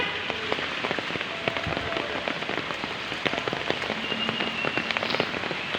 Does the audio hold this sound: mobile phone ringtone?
no